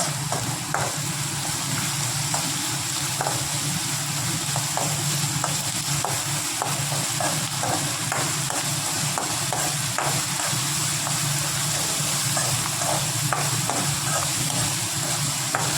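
Salted mango pickle stirred and frying in a pan over a raised flame: a steady close sizzle with soft repeated scraping strokes throughout, no talking.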